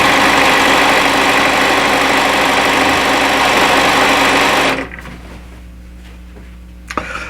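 A sewing machine stitches quilt pieces in a loud, steady run for nearly five seconds, then stops abruptly, leaving a quiet room with a single small clack near the end.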